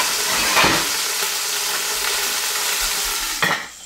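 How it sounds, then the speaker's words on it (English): Food crackles and hisses in hot oil in a pan while making stock, with brief scraping stirs near the start and end. "You hear a little bit of sizzle?"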